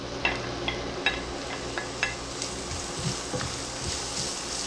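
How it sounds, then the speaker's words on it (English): Onion fries in golden-brown ginger garlic paste for tindli subzi, a steady soft sizzle with occasional light clicks of stirring and no talk. "Let's fry till the onion get translucent"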